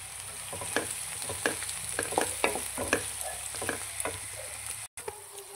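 Chopped tomato goes into softened onions in a hot pan for an egg and cashew curry, sizzling steadily while a spoon scrapes and stirs in quick irregular strokes, close and alone with a brief dropout near the end.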